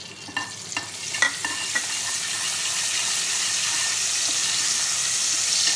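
Curry leaves sizzle loudly in hot oil for a tempering with a crackling hiss, a few sharp pops near the start, then a steady spitting fry.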